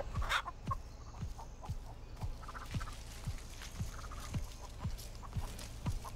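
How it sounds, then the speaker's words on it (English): Video game chickens cluck and chatter over a steady rhythmic thumping, with a persistent background hum throughout. "These chickens are doing a lot of talking back here."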